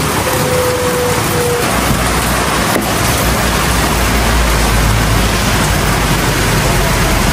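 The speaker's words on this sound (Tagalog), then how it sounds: "sana naman po ay tumila ng ulan" Heavy rain pours down in a steady, loud, unbroken wash of noise, with a brief faint tone near the start and no talking.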